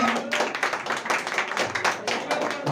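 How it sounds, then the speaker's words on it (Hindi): Audience clapping in welcome at a children's day celebration and coaching centre anniversary, a steady dense patter of many hands at close range, lasting a few seconds with no talk over it. "तालियों में गड़गड़ाहट करेंगे स्वागत।"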